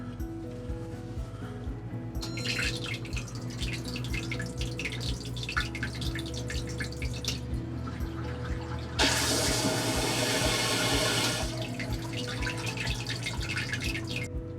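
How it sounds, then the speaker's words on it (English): A residential-style flushing toilet installed in an RV flushes: water runs and drips steadily, a louder rushing surge follows partway through, then refilling water trickles, all close by. "Let's give a victory flush."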